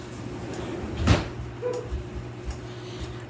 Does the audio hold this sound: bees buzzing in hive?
no